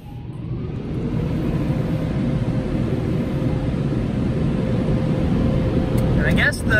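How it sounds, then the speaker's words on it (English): Car wash air blowers roar steadily over a Subaru, a loud continuous broadband rush that holds through the whole stretch, with a faint high whine near the end. "the blowers kind of just blow the car while you're sitting here"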